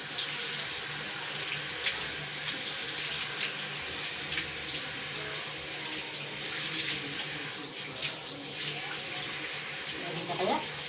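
Hot water runs steadily from a tap in a continuous close-up gush, while voices talk quietly now and then.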